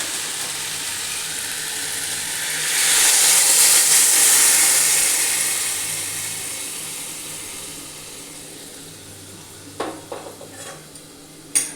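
Hot water poured into a pan of fish curry with potatoes and pointed gourd, giving a broad hiss that swells for a few seconds and then fades, followed by faint clinks of a utensil near the end.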